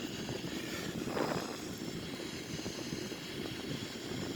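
Sukhoi Su-30 jet in a flight simulator at about Mach 0.76 and 30,000 feet, a steady airframe and engine roar with wind rush, continuous and moderately loud.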